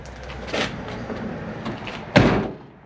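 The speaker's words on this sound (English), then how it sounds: "Door closes." A cab door on a 1993–97 third-generation Ford Ranger pickup shuts with a solid, close thud near the end, preceded by a fainter knock and light handling noises in the garage.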